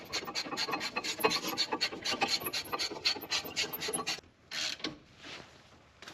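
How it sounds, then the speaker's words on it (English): A hand ratchet tightens a brake caliper bolt on a 2015 Hyundai Elantra, giving a close, rapid rasping click train in quick back-and-forth strokes, pausing briefly before a few final pulls. "I'm gonna tighten that one up with a ratchet instead of impact."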